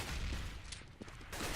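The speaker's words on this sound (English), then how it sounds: "Huge gunfight ensues." Gunfire during a bombsite gunfight in a competitive Counter-Strike-style shooter match, a dense, muffled flurry of overlapping shots and bursts that eases briefly in the middle before swelling again, fairly faint and without talking.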